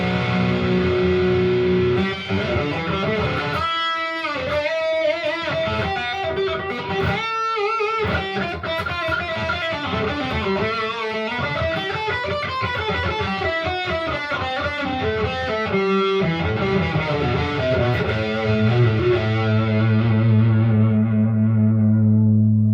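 Electric guitar played through a Blackstar ID260TVP amp cranked to full volume, loud distorted riffing with heavy effects and echo, chugging rhythmic chords with short gaps, ending on a sustained ringing chord, no talking.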